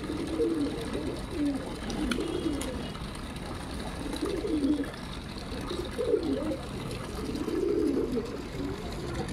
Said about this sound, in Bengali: সব পায়রাগুলো গা ধুচ্ছে